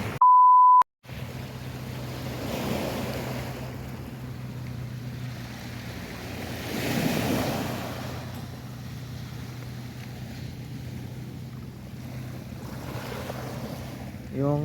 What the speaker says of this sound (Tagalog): Yung alon mga kaidol